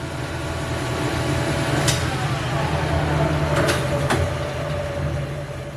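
A lathe running in third gear, a steady continuous mechanical drone and hum with a few faint clicks, even and unbroken throughout.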